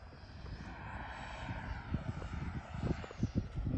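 A Freewing MiG-29 RC jet comes in to land, its ducted-fan engine giving a steady, rushing whine with wind noise and rumble underneath.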